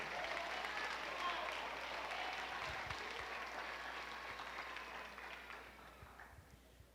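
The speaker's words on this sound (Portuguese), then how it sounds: "Pode aplaudir o Senhor." A church congregation applauds during a sermon, a broad wash of clapping and crowd noise that holds steady, then thins and fades toward the end.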